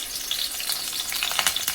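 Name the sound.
tomato and curry leaves sizzling in hot oil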